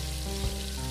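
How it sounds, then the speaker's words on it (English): A steady, dense sizzle of chicken fillets frying in hot oil, continuous and close, with a low hum underneath and no voices. "here's a close-up of some frying action going on."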